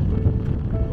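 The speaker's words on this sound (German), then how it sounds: "Dafür kräftige Windböen." Strong desert wind gusts buffet the microphone in a steady low roar that fills the whole second, heard close and loud with no voices.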